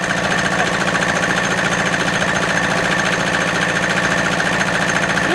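An RC8D French marine diesel engine running steadily, a loud, close, continuous rapid knocking idle with an even mechanical rhythm throughout.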